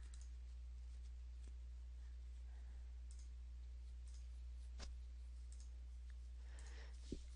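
A few sparse, faint computer mouse clicks spaced seconds apart over a quiet, steady hum, with no speech.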